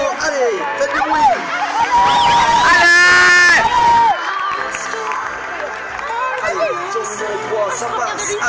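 Crowd at a French horse show event, Grand National de Lure, cheering and making noise, with a loud swell of shouts and whistles in the middle and steady babble of voices throughout.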